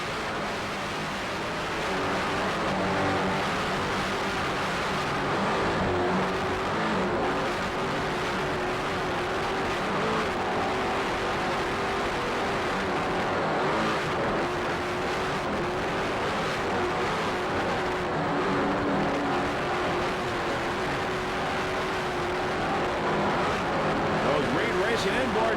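Twin 800-horsepower Reed Racing inboard engines roar continuously aboard an offshore racing powerboat during a 1995 Ocean City, Maryland grand prix, with loud, unbroken engine drone and rushing water and wind throughout.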